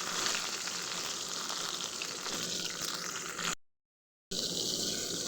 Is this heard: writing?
no